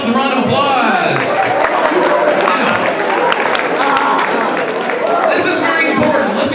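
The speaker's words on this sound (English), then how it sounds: "Give yourselves a round of applause" An audience breaks into applause, dense clapping mixed with crowd chatter and cheering, loud and sustained throughout.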